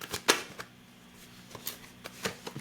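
A tarot card slipped from a deck during a reading, giving a few soft papery flicks and snaps spaced across a quiet moment, close by.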